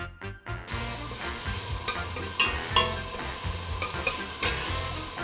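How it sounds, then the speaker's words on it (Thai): Dried chili curry paste stir-fried in hot oil for a chicken dish, with a steady close sizzle broken by repeated scraping strokes of a spatula in the pan. "เราจะเอาพริกนี้ไปผัดกับน้ำมันให้หอมก่อนค่ะ"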